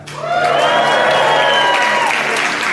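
A crowd bursts into loud, sustained clapping mixed with cheers and whoops, continuing steadily throughout.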